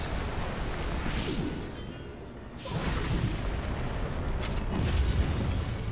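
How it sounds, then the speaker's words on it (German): Rumbling booms and whooshing bursts roll in waves, a dense fiery explosive roar with crashing swells, loud and continuous: a fireball exploding in Zelda: Breath of the Wild. "wir können die zum Explodieren bringen"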